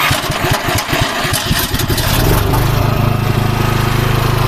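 A Champion CPG9000E2-EU 9 kW remote-start generator cranks with rapid chugging pulses, then its engine catches and settles into a loud, even running drone close by, with no voices.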